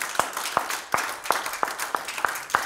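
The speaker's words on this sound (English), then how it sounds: "Give him a hand clap this morning." A church congregation at a Sunday service clapping in a steady rhythm, eight sharp claps about a beat apart over a hiss of room noise.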